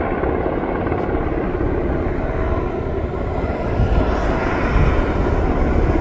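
A helicopter flying overhead during a Saudi National Day celebration, a loud continuous rotor roar that swells slightly toward the end, close and steady with no talk.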